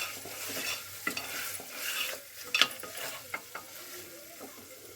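Meat is stirred and browned in oil in a pan. A spatula scrapes and clatters in uneven strokes over a low, steady sizzle, fairly quiet and with no speech.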